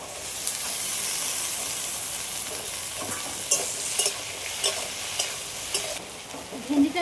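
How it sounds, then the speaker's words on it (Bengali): Cut okra sizzles in oil in a pan with slit green chillies, a constant soft frying hiss broken by several short scraping stirs of a spatula. "ভেন্ডিটা একটু হালকা করে ভেজে নিয়েছি"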